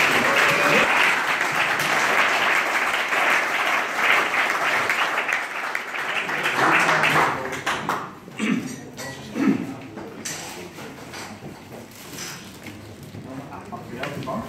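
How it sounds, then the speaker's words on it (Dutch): Audience applause at the 2016 Council Member of the Year award ceremony, dense clapping from a large room that thins and fades after about seven seconds into scattered claps and murmuring. "overigens een applaus uiteraard voor Mart."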